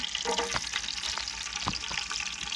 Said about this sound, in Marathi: आपण लसूण टाकतोय सध्या लसूणची फोडणी